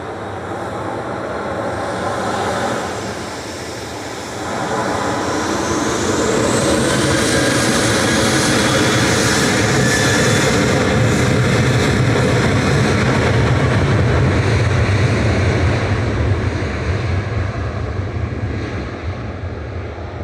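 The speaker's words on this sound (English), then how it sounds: "Tui's G Tower heading off now to Salzburg with flight 2688." A TUI jet airliner departs Manchester Airport for Salzburg, a broad engine roar that dips briefly early on, then builds to a loud, sustained rumble across the take-off roll and climb, with no talking.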